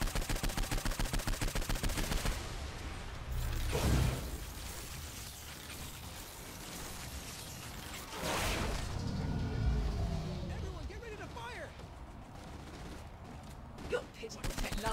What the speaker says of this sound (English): Something's trying to shoot me. What the hell is shooting at me?